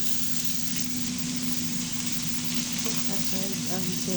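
Onions sizzling and frying in a pan for a homemade burger lunch, a steady close hiss of oil throughout with faint stirring, and a voice speaking briefly near the end.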